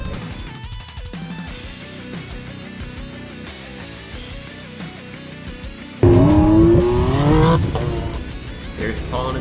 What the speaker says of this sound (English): his brand new shiny red RZR XP 1000